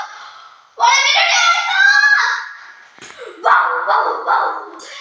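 Frantic high-pitched yelping and barking of dogs running toward the listener close by, in bursts, with a voice crying out in between.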